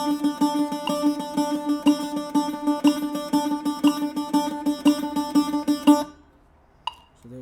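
Bouzouki picked in steady triplet groupings, a bright metallic plucked line of evenly spaced notes for about six seconds, then a ringing stop and near silence with one faint later note.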